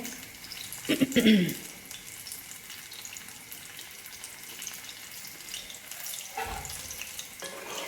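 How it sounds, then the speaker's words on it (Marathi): Tandoori chicken leg pieces fry in a home kitchen, a soft continuous sizzle with a couple of brief louder clatters, fairly faint throughout. "तर हे असं आपण तळून घेत आहे."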